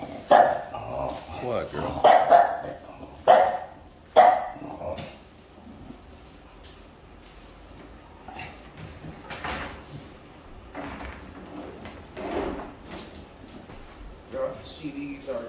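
A micro bully dog gives several short barks in the opening seconds, fairly close and loud, then the scene settles into quieter household sounds as someone talks throughout.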